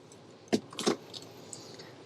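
Keys on a 2024 Nissan Pathfinder Rock Creek key fob jangle in two quick bright shakes close by, followed by a few faint metallic clinks in a quiet car interior.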